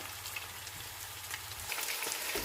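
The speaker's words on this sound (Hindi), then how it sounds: "इसे अच्छे से तकरीबन 5 से 6 मिनट के लिए हम भून लेंगे" Chicken pieces sizzling in a pan while being fried bhuna-style for a Ramadan dhagi chicken dish, a soft steady crackle with faint pops, no voices.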